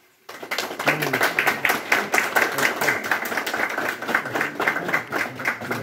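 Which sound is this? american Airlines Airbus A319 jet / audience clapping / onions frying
audience clapping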